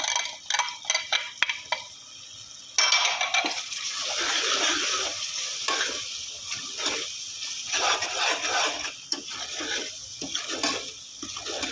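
Spices for chicken biryani are stirred and fried in a pot, with a ladle scraping and clinking against the metal over a low sizzle, the clatter coming in uneven bursts and no one speaking.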